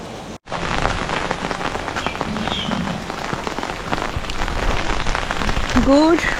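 Heavy rain pours steadily at the seaside resort of Bakkhali in the morning, a dense, constant roar of drops beating on surfaces, near and loud throughout.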